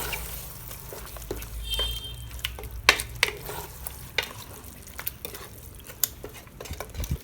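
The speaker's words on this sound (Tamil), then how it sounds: "அந்த தயிர் இதில் ஊற்றிடலாம்" Yogurt being stirred into mutton in a pot for seeraga samba mutton biryani, a low bubbling sizzle under frequent clinks and scrapes of a metal spoon against the vessel, close and with no talk.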